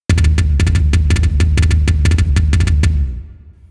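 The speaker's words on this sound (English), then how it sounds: "So he starts off with 6 of those on this low tom." Rapid drum strokes in quick repeating groups, a deep booming low tom played in steady triplet patterns before ringing out, from a song's drum intro.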